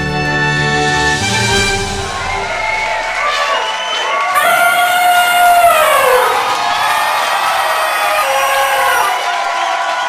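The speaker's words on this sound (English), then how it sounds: "And the crowd cheers wildly" A large crowd cheers wildly and continuously, loud and close, with shouts and whoops over the roar and bright rising tones sweeping through the middle of the burst.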